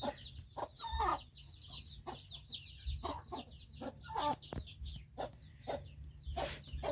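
Hens and little chicks cluck and peep near a house by the forest, busy overlapping calls and chirps repeating for several seconds over a low background hum.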